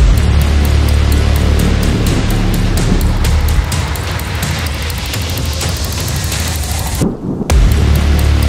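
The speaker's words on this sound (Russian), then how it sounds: "пошел такой вот ожидаемый дождь" Steady, loud rain hisses continuously with a dense patter of drops close by at a truck drag racing event, briefly dipping near the end before resuming.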